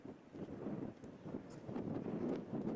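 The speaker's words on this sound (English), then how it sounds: "A bit windy up here, but it's nice." Gusty wind buffeting on exposed castle battlements by the sea, a steady rough rush that swells and eases with no other sounds.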